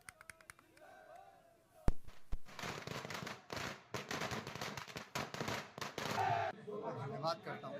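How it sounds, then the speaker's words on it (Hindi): Fireworks go off at a street celebration at Picture Palace Chowk in Mussoorie. A few sharp bangs lead into a long burst of rapid, crackling pops, and voices are heard before and after. "वहीं पिक्चर पैलेस चौक पर आतिशबाजी कर खुशी भी जताई गई"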